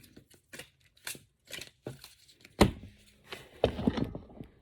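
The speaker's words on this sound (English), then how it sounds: "right now, as you can see, I'm just shuffling the deck" A deck of tarot cards being shuffled: soft riffling and flicking bursts in an irregular rhythm, close and fairly quiet, with a few louder rustles toward the end and no talking.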